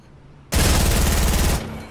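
A loud, continuous burst of rapid gunfire from Barrett and silenced sniper rifles in a video game starts abruptly after a quiet moment and runs for about a second before cutting off.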